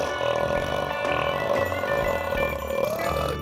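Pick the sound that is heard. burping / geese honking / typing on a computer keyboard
burping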